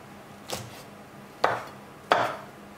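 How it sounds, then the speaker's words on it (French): Three sharp knife chops through black trumpet mushrooms on a cutting board, one soft then two louder, each a brief crisp thud with a short tail, spaced unevenly, close up with no talk. "Les plus grosses trompettes, je les ai prises, je vais les couper grossièrement comme ceci."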